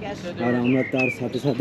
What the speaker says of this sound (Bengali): চারি সাইডে পাখিদের গান হচ্ছে,